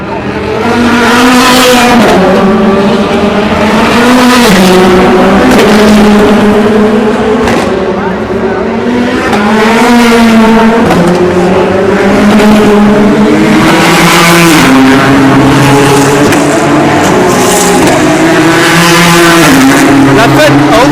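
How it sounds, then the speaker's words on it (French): Porsche race cars roar past at the 2016 Le Mans 24 Hours, loud and close, engines rising and falling in pitch through repeated gear changes as several cars pass in succession. "Alors là, il y a les Porsche qui reviennent"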